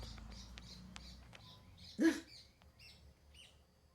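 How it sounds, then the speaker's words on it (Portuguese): A bird calls outdoors with a few short chirps scattered over faint background noise, then one brief louder burst near the middle. "Pássaro grita aqui ao vivo agora."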